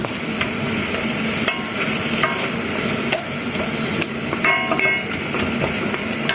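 Beef caramelizes in a pan while being stirred, a dense frying sizzle broken by repeated scraping and clinking of the utensil against the pan, close and fairly loud.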